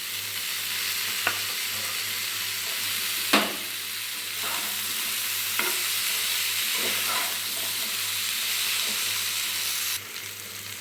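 Prawns and potatoes fry in a pan for a green banana and potato curry, a steady close sizzle broken by a few sharp clicks of stirring, with no talk.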